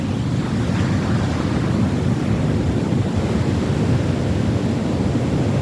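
Waves wash onto a beach on a cold, windy day: a steady, loud roar of surf blended with heavy wind buffeting the microphone, continuous and without voices.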